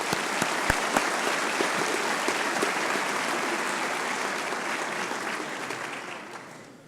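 A room full of people at a scholarship reception applauds scholarship recipients, a sustained wash of clapping with some sharp individual claps standing out, holding steady and then tapering off at the end.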